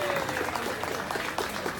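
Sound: audience applause for dance performers

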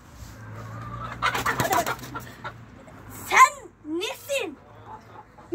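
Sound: chickens clucking

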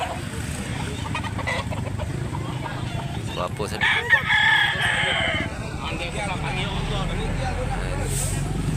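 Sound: roosters crowing and clucking at a chicken sale

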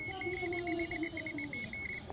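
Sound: continuity tester beeping

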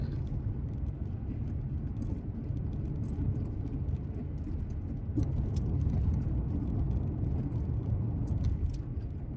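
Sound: car driving on the road

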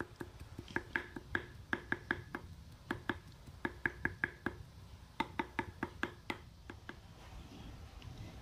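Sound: mincing cooked pineapple with a knife

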